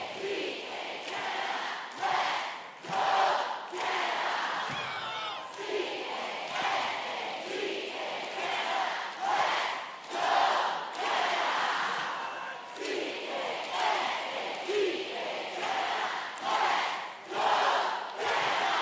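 Team Canada cheerleaders shout a chanted cheer in unison, the loud rhythmic group chant rising in repeated bursts over a steady crowd roar in a large competition arena.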